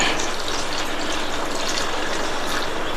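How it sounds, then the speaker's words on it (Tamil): Water poured into a pan of potato gravy, a steady close splashing gush that runs unbroken for the whole stretch, with no voices over it. "நான் வந்து இதில் 3/4 டம்ளர் தண்ணி சேர்க்குறேன்"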